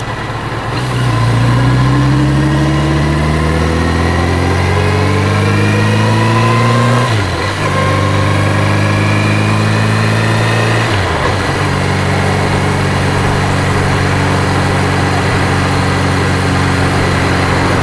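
Car engine while driving south on LaGrange Road, a loud close drone climbing in pitch through the gears with two shift dips, then holding a steady cruise hum, no talking.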